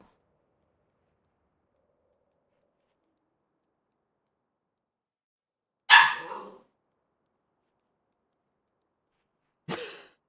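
A dog indoors at home gives two short, sharp barks about four seconds apart, with silence around them.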